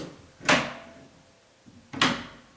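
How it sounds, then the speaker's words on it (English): A ball-and-socket door latch opens and closes, giving two sharp, fairly loud clicks and thuds about one and a half seconds apart, with soft handling noise between. "I can open and close this door nice, with hardly any effort now."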